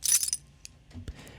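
A bunch of keys jangles up close, recorded as a foley sample: a bright metallic shake at the start, then a few sparse clinks and small taps fading out.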